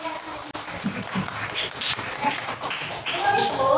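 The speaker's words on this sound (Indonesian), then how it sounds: "Tepuk tangan dulu buat kalian." Classroom of students clapping for one another after a lesson, a short uneven patter of hands with a teacher's voice speaking over part of it.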